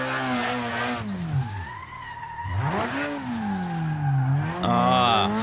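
A drifting car in the Assetto Corsa racing game revs and falls in sweeping engine pitch with sharp downshift blips and tire squeal, loud and close throughout.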